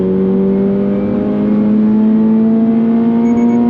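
A 2024 Subaru BRZ tS engine revving hard on the road, close and loud, one sustained note climbing steadily in pitch as the revs build without a break.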